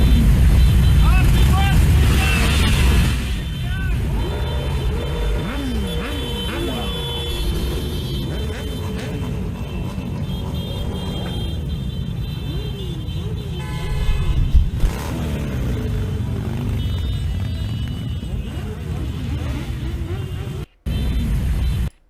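Crowd of thousands of protesting bikers on motorcycles in Paris, engines revving and droning in a dense mass with repeated horn toots, someone talking over the din throughout.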